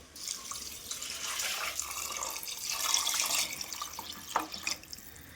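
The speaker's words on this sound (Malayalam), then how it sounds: "കുറച്ച് വെള്ളം ഒഴിക്കാം" Water pours into a pot of rice for cooking rice gruel, a close, fairly soft splashing stream with a few drips near the end, and no talk.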